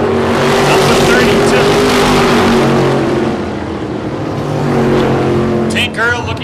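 Race cars roar loudly around a short track in Maine, catching slower cars in a continuous close engine drone, with a commentator talking over it.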